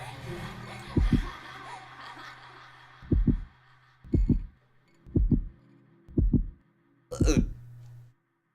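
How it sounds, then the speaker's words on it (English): A heartbeat effect from the visual novel game House in Fata Morgana thumps in slow paired beats about once a second. The beats sound deep and prominent over a low ambient hum. "Yeah, that heartbeat's not terrifying."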